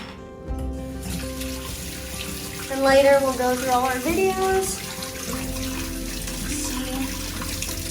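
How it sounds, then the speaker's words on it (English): A tap runs steadily nearby while salt water is rinsed off surf gear after surfing at Waikiki, Oahu, with the rushing stream briefly changing tone as the gear moves under it and a person talking over it. "they get very gross and crusty and rusty when you don't rinse the salt water off of them"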